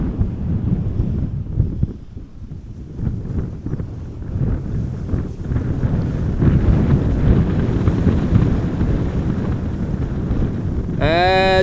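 Strong gusty wind roars against the microphone outdoors at Amsterdam Schiphol Airport on a cloudy day, a loud, continuous low rumble that rises and falls in buffeting surges, ending with a brief rising tonal sweep.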